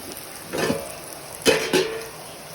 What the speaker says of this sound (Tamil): இந்த வெங்காயமும் மஞ்சள் தூள் கூட சேர்த்து நல்லா வதக்கிக்கோங்க